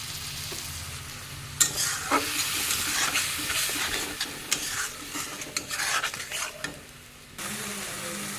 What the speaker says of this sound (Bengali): একদম ভালো করে বেজে নিয়েছি